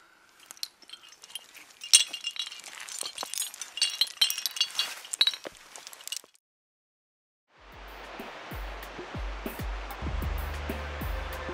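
Metal climbing gear clinks and rattles as an extender is clipped onto a cam, a close run of sharp jangling taps, then a pause and a steady rushing outdoor background.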